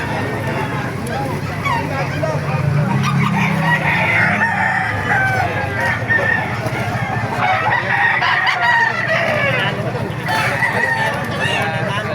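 Chickens and roosters at an open-air poultry market in Baliuag, with repeated crowing and clucking rising over a constant crowd babble and nearby talk.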